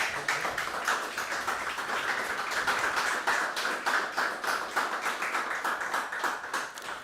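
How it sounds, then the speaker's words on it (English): Small hackathon audience gives a round of applause after a group photo, a moderate, somewhat sparse clapping with distinct individual hand claps, steady for several seconds and tapering slightly at the end. "Please, a round of applause for them"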